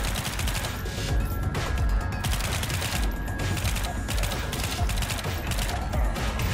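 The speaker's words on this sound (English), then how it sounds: "Who's shooting at me now?" Dense rapid gunfire from the shooter game Pathogen X, a continuous loud fusillade of overlapping shots with no pause.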